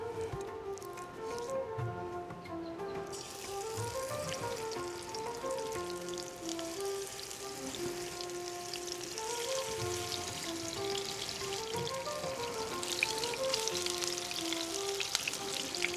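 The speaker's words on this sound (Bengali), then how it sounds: "মাছগুলো মোটামুটি ম্যারিনেট হয়ে গেছে, এর মধ্যে দিয়ে দিই, ভাজাটা হয়ে যাবে।" Marinated surmai fish pieces fry in a pan, giving a steady close sizzle and crackle that runs throughout under tonal, melodic sounds.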